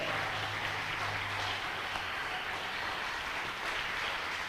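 A church congregation at a Sunday service bursts into sustained applause, dense and steady clapping filling the room evenly from start to finish, with a low hum beneath.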